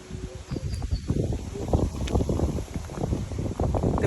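Gusty outdoor wind buffets the microphone in continuous low, rumbling bursts for the whole stretch.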